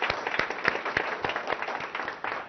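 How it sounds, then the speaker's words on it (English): A crowd at a technology centre inauguration in Hyderabad applauds, a fairly faint, steady patter of many hands clapping that runs unbroken with no voices on top. "I think the entire family of ZF deserves a huge round of applause."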